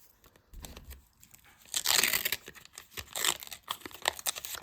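A plastic face-mask packet is torn open close up, crinkly tearing and crumpling with a few bursts of ripping and rustling, no voices.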